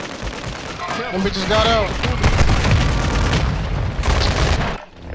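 Rapid gunfire and booming shots in a shooter video game rattle steadily and loud, with someone talking excitedly over the shooting throughout.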